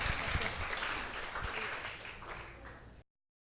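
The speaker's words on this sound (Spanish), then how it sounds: "Denle un aplauso al Señor." Crowd applause at an evangelistic church gathering, a dense wash of many hands clapping at once, steady and fairly loud, fading slightly before it cuts off abruptly.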